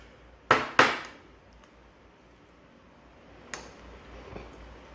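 A Body Mission meal-replacement food is stirred in a container: two sharp, close clinks of a utensil, then a quieter tap and soft scraping against a faint background.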